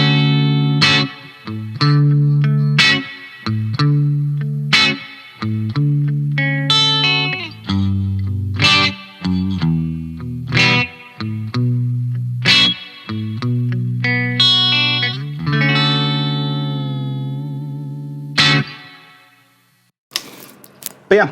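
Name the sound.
Fender electric guitar with coil-split pickups playing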